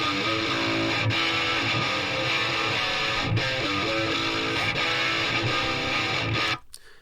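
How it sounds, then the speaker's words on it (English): Distorted electric guitar captured by two microphones with one phase-reversed, giving a thin, hollow, harsh chugging tone that plays loud and continuous before stopping. "If we reverse the phase on one of these microphones, you will get a horrible sound that sounds like this."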